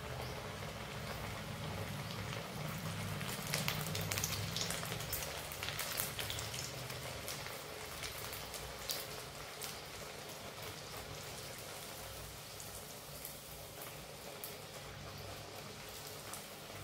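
Potato-based masala puris frying in hot oil make a steady, dense crackling sizzle that runs throughout at moderate loudness, with no voices.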